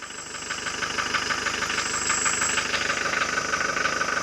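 A car's MPD/DA engine idles steadily with a continuous mechanical rumble and faint knocking texture, close by and unbroken throughout.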